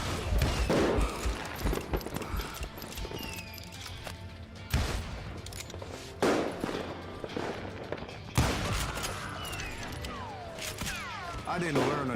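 Gunfire in Call of Juarez: Gunslinger, with bursts of sharp shots and volleys scattered through a busy game mix, separated by quieter stretches, with people talking over parts of it.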